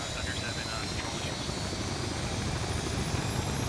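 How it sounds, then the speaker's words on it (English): Loud, continuous video game helicopter rotor and engine roar, close and steady throughout. "God, the fucking helicopter sounds so good."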